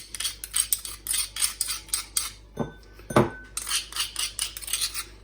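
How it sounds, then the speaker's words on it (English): A utensil scrapes and taps against a bowl as smashed ingredients for fried chicken noodles are moved into it. The clinks and scrapes come close and repeat at an uneven pace, with one sharper knock partway through. "Now I'm going to transfer that to a bowl. Put it in there."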